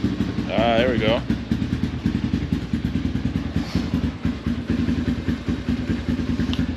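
A Honda CRF230F dirt bike idles close by with a steady, even thump, a short voice briefly heard over it at the start before the engine carries on alone.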